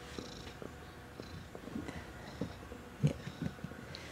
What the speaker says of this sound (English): I don't know if you can hear it purring